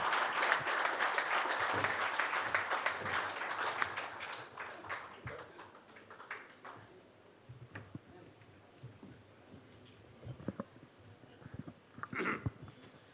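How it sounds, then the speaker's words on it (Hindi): Audience applause greets a guest walking onto the stage of a Bihar political debate show. A loud, dense burst of clapping fills the first few seconds, then thins to scattered claps that fade out. "जोरदार तालियों से आप इनका स्वागत कीजिए"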